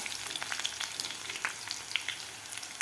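A generous handful of curry leaves fries in oil, giving a close, crackling sizzle with rapid small pops and spits over a constant hiss.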